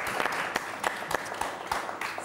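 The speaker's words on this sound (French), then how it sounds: "Applaudissements" Studio audience applause on a French TV game show, steady close clapping from a crowd throughout with sharp individual claps standing out.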